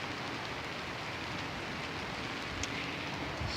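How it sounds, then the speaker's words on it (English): Steady light rain falls outdoors over a garden seeding bed, a faint, even hiss of drops with no talking. "I do have one complication now, which is that it's raining"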